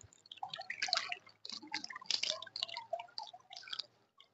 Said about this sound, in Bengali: এই যে জল দিয়ে আপনারা জলটা ওভারফ্লো করে দেবেন